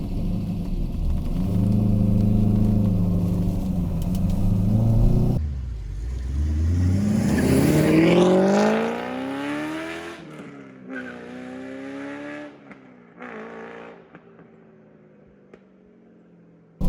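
A C5 Corvette's engine idles with a deep rumble, then revs up sharply in a rising sweep and drops back, followed by several shorter blips of the throttle close by.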